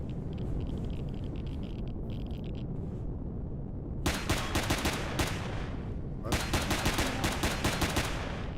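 Pistol gunfire in the space survival game Empyrion, two quick bursts of sharp, closely spaced shots ringing out over a steady low rumble of game ambience.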